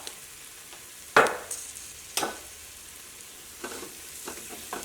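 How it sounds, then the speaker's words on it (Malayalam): Chili powder and masala fry in oil for a vegetable biryani, a soft continuous sizzle broken by a few loud stirring scrapes and knocks of a spoon against the pan. "ഈ മുളക് പൊടിയും ചേർത്ത് കഴിഞ്ഞിട്ട് ഇതേപോലെ ഇളക്കി കൊടുക്കുക."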